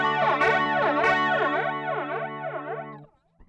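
Guitar played through a TC Electronic Thunderstorm flanger pedal with every control at 75%, a sustained distorted chord with deep, sweeping jet-like whooshes rising and falling in slow cycles, loud and close, then cutting off near the end.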